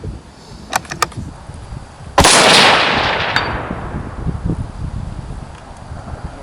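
A single loud rifle shot from a Ruger American chambered in 6.5 Creedmoor, sharp and close, followed by a long rolling echo that fades over several seconds, with a few faint clicks beforehand.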